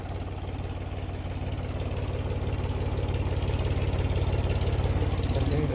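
A farm tractor spreading cow dung manure on a capsicum field idles up close with a steady, low, throbbing rumble that grows slightly louder, with no talking.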